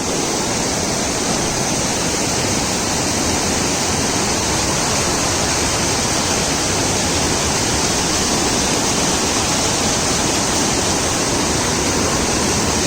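Loud, continuous roar of rushing water in heavy rain, like a fast torrent or small waterfall, close by and unbroken throughout, with no voices.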